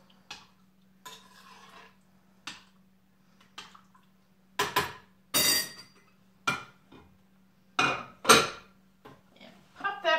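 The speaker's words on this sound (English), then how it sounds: "Stir all your meatballs." Spoon stirring meatballs in Italian wedding soup in a microwave-safe bowl, giving intermittent clinks and scrapes against the dish in short bursts with pauses, close and fairly quiet.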